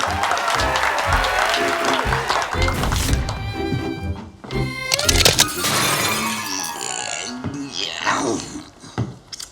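A studio audience gives a loud, sustained burst of clapping that fades toward the end, mixed with a few knocks and clatters.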